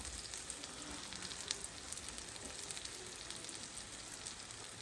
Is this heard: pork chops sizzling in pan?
yes